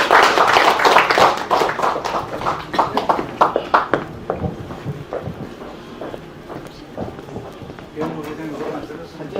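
An audience at a year-end forum gathering of overseas Koreans applauds, a loud burst of clapping that fades into scattered claps while a voice speaks over it.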